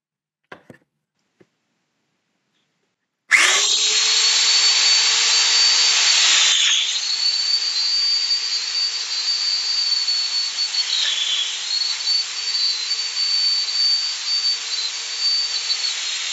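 Festool Domino joiner cutting mortise holes in wood: a few faint clicks, then the motor starts abruptly into a loud, steady high whine with hissy cutting noise that shifts pitch briefly as the cutter plunges, running continuously to the end.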